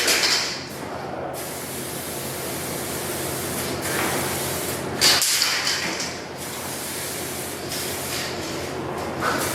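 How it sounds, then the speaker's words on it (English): Steady, continuous aerosol spraying hisses on in bursts with brief pauses, close by, with no talking. "I usually always spray the offsets on the last coat"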